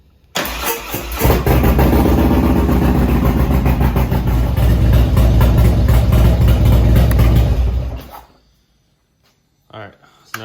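A 2017 Harley-Davidson Road Glide on a workshop lift cranks and fires up, then settles into a loud, steady, rumbling idle for several seconds before cutting off into silence, followed by a brief clatter.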